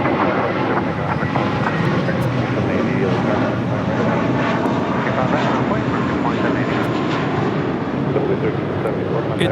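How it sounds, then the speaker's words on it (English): An Airbus A321 takes off from a runway at LAX, a loud sustained roar of jet engines filling the whole stretch at close range, with a voice talking over it. "It's meant to be taking off to New York on this A321, flight 1374."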